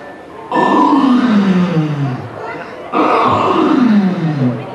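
A person imitates an elephant's call with two long, loud, close vocal blasts, each a falling grunting roar lasting about two seconds, separated by a brief drop in level.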